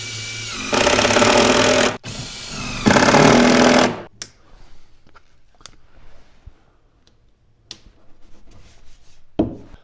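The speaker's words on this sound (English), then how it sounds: "We'll go ahead and tie these 2 cabinets together and get them covered." A power drill driving screws to join two kitchen island cabinets, two loud whirring bursts of a few seconds each, followed by quieter knocks, handling noises and a sharp tap.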